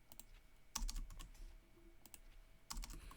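Computer keyboard shortcuts pressed to paste code, a few soft clustered key taps and clicks at close range in a quiet room, no one talking.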